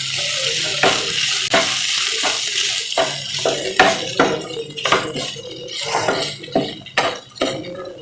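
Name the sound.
stirring grated coconut into cooking beetroot poriyal in a pan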